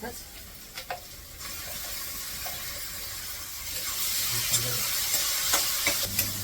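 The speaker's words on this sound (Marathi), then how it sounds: "कांदा टमाटा एकदम छान परतलाय" Onion and tomato sautéing in a pan, a continuous hissing sizzle that swells louder midway, with occasional stirring clinks and scrapes close by and no talking.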